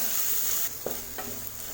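Sliced capsicum strips stirred and sautéed in a hot pan for egg rice, a steady close sizzle with a couple of soft scraping stirs partway through.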